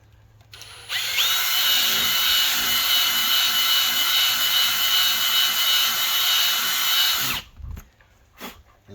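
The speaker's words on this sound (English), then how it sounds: "I'm going to drill the hole out a little bit." A power drill whines loudly and steadily for about six seconds while enlarging a hole in a tire, then cuts off, followed by a few brief clunks.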